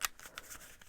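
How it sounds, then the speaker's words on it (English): Tarot cards are shuffled by hand in a quick, faint burst of crisp riffling and light slaps, close and soft, with no talking. "I'm gonna shuffle a little bit more"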